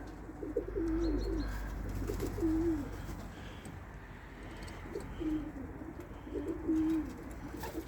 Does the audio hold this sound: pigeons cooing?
yes